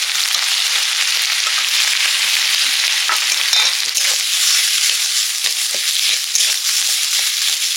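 Potato being sautéed with turmeric, garlic paste and ginger paste, a loud, close, continuous sizzle with scraping and crunchy stirring strokes of a spatula against the pan throughout, no voices.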